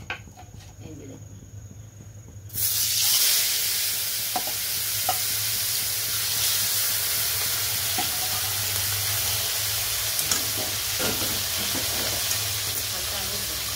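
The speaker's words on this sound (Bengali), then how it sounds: "তেলটা কিন্তু গরম হয়ে গেছে। হালকা আগে ভিজে নিচ্ছি মাছটা।" Fish frying in hot oil in a home kitchen: after a quiet start, a loud, steady sizzle suddenly bursts in and carries on continuously, with occasional small pops and stirring sounds.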